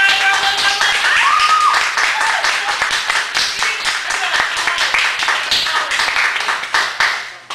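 Renewed applause from a small audience at a Chicago cafe performance, steady close hand clapping that holds for several seconds and then thins and tapers off at the end.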